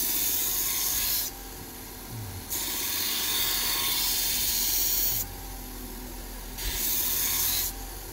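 A blade is sharpened at a farmers market stall: long rasping, hissing strokes, three loud passes of a second or more each, separated by quieter gaps, close and uninterrupted by talk.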